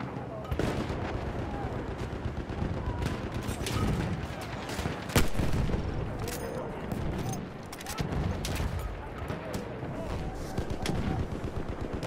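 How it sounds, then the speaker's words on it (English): Rapid bursts of machine gun fire crackle through a Battlefield 1 battle, dense and near with sharp individual shots and distant booms, while players talk over the gunfire. "Machine gun right there!"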